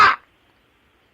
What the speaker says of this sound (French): Oui, mais ça, c'est un corbeau.